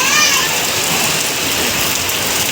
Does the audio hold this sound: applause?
no